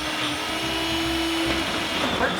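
A kitchen blender whirs loudly while mixing tomatillos during a cooking demonstration, a steady motor drone with a brief rising pitch partway through and a shift in tone near the end.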